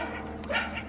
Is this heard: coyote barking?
yes